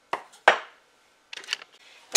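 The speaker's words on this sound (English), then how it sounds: "I'm going to continue chopping, and I'll bring you back when I've got it all chopped up." A knife chops through butternut squash on a board in a few sharp, close thuds and cuts, spaced irregularly with short pauses and no talking.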